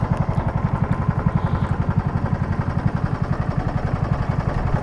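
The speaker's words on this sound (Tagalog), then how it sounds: "Marunong na magpatakbo ng bangkang di motor" A small motor boat's engine chugs steadily in a fast, even rhythm, close and fairly loud, with no talk over it.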